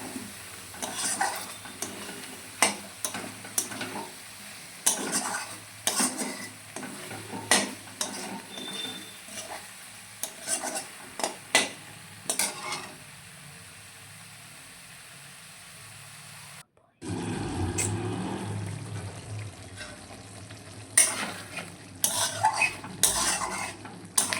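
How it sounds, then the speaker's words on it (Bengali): A spoon scrapes and clatters in a pan of frying chicken, cauliflower and potato, with a faint sizzle underneath. Loud stirring strokes come in bursts, then water splashes in and the pan hisses more strongly. "জল দিয়ে এবার নাড়াচাড়া করবো"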